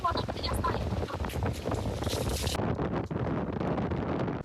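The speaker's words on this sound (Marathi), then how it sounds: "एवढं सुंदर वारं सुटलंय ना, एवढं सुंदर सुंदर वारं सुटलंय." Wind gusts buffet the microphone on a trip to Lavasa, a rough steady rush of air under a voice speaking throughout.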